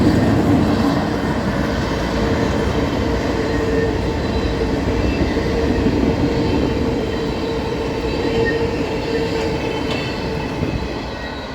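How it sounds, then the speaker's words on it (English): Westbound freight train hauling welded rail toward Altoona on the Norfolk Southern Harrisburg Division, a loud continuous roll of wheels and rumbling cars passing close by, easing slightly near the end. "918 heading westbound to Altoona with a welded rail train"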